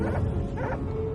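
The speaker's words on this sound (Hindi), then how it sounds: "अरे ये कुत्ते इतने क्यों भौंक रहे हैं?" Dogs bark outside a house at night in a village, a couple of sharp yapping barks close by with faint whimpering between them.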